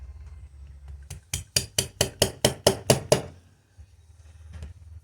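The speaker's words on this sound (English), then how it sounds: "tapping on this pin. I'm trying to get this float pin out" A small punch lightly tapped against the float pin of a 2019 Mercury 2.5 hp outboard carburetor: about nine crisp metallic taps in a steady, quick rhythm, close and alone in a quiet room.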